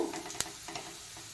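Chopped garlic frying in a pan while being stirred, a soft steady sizzle broken by a few sharp utensil scrapes and clicks, close and moderately quiet with no talking.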